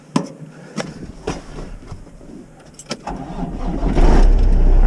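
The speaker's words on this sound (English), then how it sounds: "and the pump kicks on." A truck's PTO-driven vacuum pump on a water trailer kicks on: after scattered clanks and clicks, a low mechanical drone swells and holds loud and steady through the final second.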